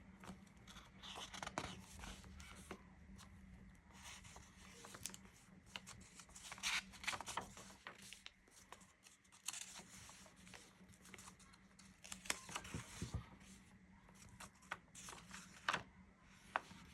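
A brown paper bag junk journal cover and its pages being handled and turned, giving repeated crisp crinkles, rustles and soft crunches with uneven bursts throughout, close and alone with no talk.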